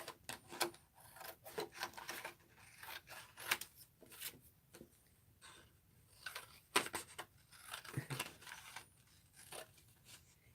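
Scissors snipping through paper to cut out a printed sentiment, a series of short crisp cuts and rustles close by, irregular and fairly quiet, with no voices.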